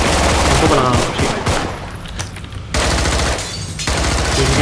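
Dense, loud automatic gunfire rattles almost without pause in the zombie shooter game Contagion, with rapid overlapping shots that briefly thin out midway before resuming at full intensity.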